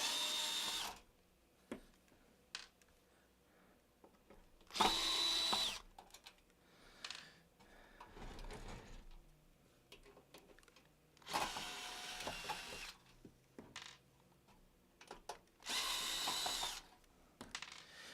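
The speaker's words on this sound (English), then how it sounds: "I got this hand drill from IKEA for about 20, 30 bucks" Cheap IKEA cordless hand drill driving screws into a Bell and Howell theater amplifier, several short separate bursts of whirring with quiet gaps and small clinks of handling between them, close and alone.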